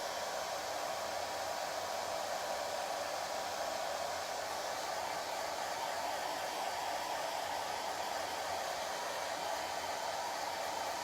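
A hair dryer on its cool setting blows steadily to dry chalk on a stencil, giving a loud, continuous whooshing drone with no break and no talk.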